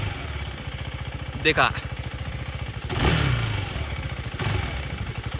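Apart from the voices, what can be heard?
KTM Adventure 390 motorcycle engine revving with throttle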